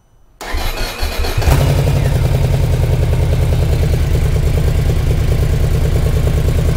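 A motorcycle engine cranks briefly, catches and settles into a loud, steady, close idle with an even pulsing rhythm.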